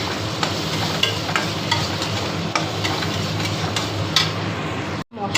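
Chopped tomato frying in a pan with onion and ginger paste, a steady, dense sizzle with stirring scrapes and a few clinks running throughout, close and fairly loud, with a brief drop near the end.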